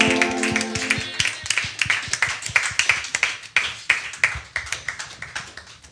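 Church congregation clapping in praise of Jesus during a worship service, a steady rhythmic run of sharp claps and taps, fairly near, with music tones fading out early and no talk.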